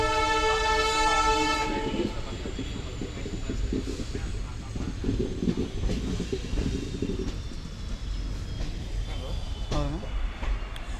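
A passenger train moves through Nanjangud Town railway station, heard from inside a coach: a horn sounds at the start, then a steady rumble and rattle of the carriages continues throughout.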